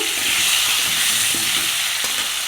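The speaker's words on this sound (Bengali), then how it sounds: "আর এদিকে মাংসগুলো অল্প ভেজে নিচ্ছি" Loud, close sizzling of broiler chicken frying in oil, a constant crackling hiss with faint stirring scrapes underneath.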